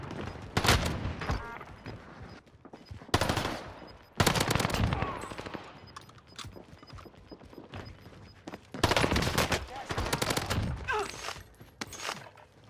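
An MP40 submachine gun fires in the Warzone video game in rapid bursts, with several loud, dense volleys separated by short quieter gaps, close and sharp.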